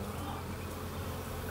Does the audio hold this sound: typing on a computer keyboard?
no